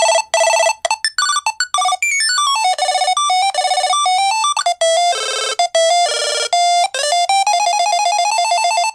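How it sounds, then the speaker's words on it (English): A Tile Bionic ringtone from a KeySmart tracker app, played as a loud, continuous electronic melody of rapid rising and falling synthesized notes, alone without talk. "there's the bionic ringtone"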